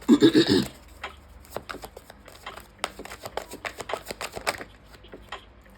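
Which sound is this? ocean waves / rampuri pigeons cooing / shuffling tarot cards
shuffling tarot cards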